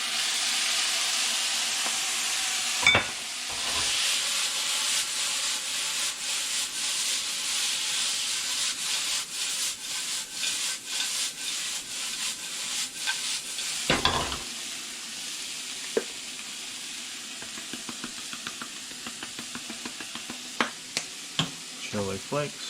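A stir fry sizzles steadily in a hot pan after soy sauce is added, a continuous loud hiss broken by a couple of sharp bursts and occasional clinks and scrapes of stirring.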